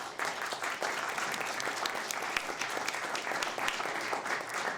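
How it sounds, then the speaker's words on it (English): An audience at an AFSCME mayoral candidate forum gives the candidates a round of applause, a steady crowd clapping of moderate loudness sustained throughout. "Let's go ahead and give a round of applause to our candidates."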